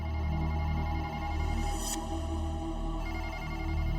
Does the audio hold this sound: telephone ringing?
yes